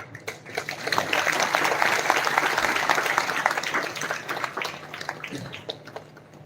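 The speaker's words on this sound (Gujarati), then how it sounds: "અમે કઈ ત્યારે તાળીઓ પાડો" An audience at a Bhadarvi Amas festival in Virpur bursts into applause that swells, holds dense and steady, then thins out into scattered claps.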